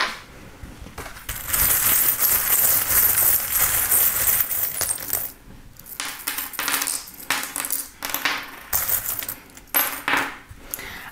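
Small metal charms cast for a divination reading clatter and jingle in close, bright bursts, rattling repeatedly with brief pauses between throws and no voices.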